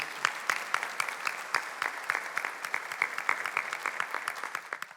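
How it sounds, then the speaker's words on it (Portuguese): A congregation at a Sunday family Mass applauds the Holy Gospel, a moderately quiet room of rhythmic, distinct claps that taper off toward the end. "Vamos aplaudir o Santo Evangelho."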